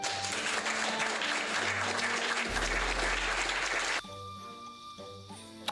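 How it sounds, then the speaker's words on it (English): Loud, dense rounds of applause fill the first four seconds, then cut off abruptly to a quieter tail with a faint tonal hum. "Just absolute rounds of applause."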